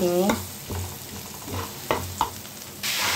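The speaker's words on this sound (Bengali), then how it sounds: "দিয়ে এটা ভালো করে ভেজে নেব" Banana stem (aliya) frying in a pan, with close stirring scrapes and a few sharp clinks over a steady sizzle that swells louder near the end, no voices.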